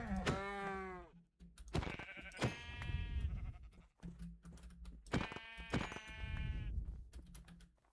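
Several loud, near sheep bleats from Minecraft, wavering cries repeated in bursts across the clip with short gaps, heard alone without talk.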